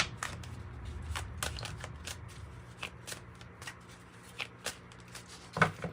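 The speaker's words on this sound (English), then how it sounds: "One more good shuffle." Tarot cards are shuffled by hand in a quiet room, a soft riffling rustle broken by repeated sharp flicks and snaps, close and fairly faint.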